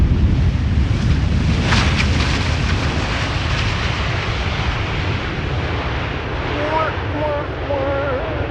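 Boeing 747, 11 years old, arriving at Amsterdam Schiphol Airport: a steady, broad jet roar that holds constant and fairly loud throughout, with wind buffeting the microphone and faint chirping birds near the end.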